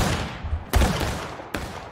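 Two musket volleys ring out in a Civil War battle game, the first crashing at about three-quarters of a second and the second after a short pause, each a loud, sharp, ragged burst of many rifles firing together.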